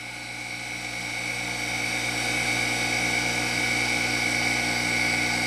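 A Harig Super 612 hand-feed surface grinder spindle runs steadily, a smooth, even whine with a constant hum that holds at the same level throughout, no voices over it.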